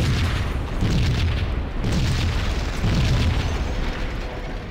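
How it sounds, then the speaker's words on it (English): Grenade explosion in the video game Max Payne: a series of loud, deep booming blasts repeating roughly every second, with low rumble and rolling debris noise carrying throughout, no voices. "Not the grenade again."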